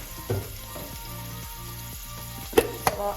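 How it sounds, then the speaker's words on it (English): Onions and garlic sizzle and crackle in hot oil, a steady close frying hiss with a few clanks of a utensil against the pan. "I have my onions that are now sizzling in the oil"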